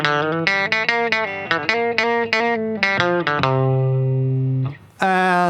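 A dry rockabilly electric guitar lick, played with the compressor and reverb pedals off, gives quick plucked notes in a bouncy run, then a held chord that rings out, fades, and gives way to a fresh strum.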